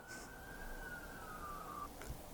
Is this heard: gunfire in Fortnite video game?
no